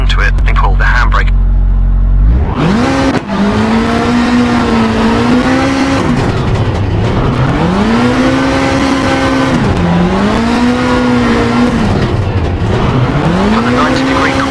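Rally car engine from the game Richard Burns Rally, loud and close, revving and dropping in repeated swells as the car takes corners, with tire squeal mixed in.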